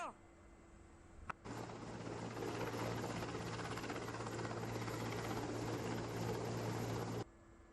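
A rescue helicopter during a flood airlift in Gujarat gives a loud, steady rotor and engine roar for several seconds. It cuts in and out abruptly, and no one talks over it.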